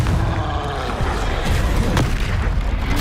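Confringo blasting-spell explosion from Hogwarts Legacy, a fiery magical burst heard as a loud, dense, roaring boom that rumbles continuously with crackling bursts layered over it.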